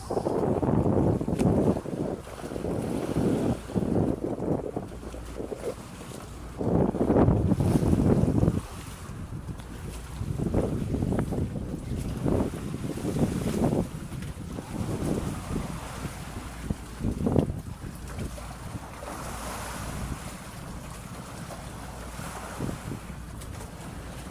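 A boat moves across open water, heavy wind buffeting the microphone and waves splashing in irregular bursts.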